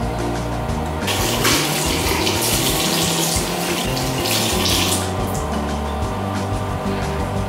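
Tap water runs loudly and continuously into a sink during face washing in a skincare routine. It is a close, steady splashing rush throughout, with no talking.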